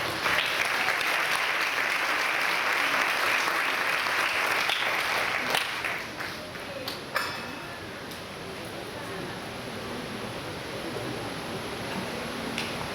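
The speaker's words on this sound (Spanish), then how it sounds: "Por favor, demos un aplauso." Congregation at a testimony gathering applauds for about six seconds, then the clapping drops away into quieter room noise with a few scattered clicks and taps.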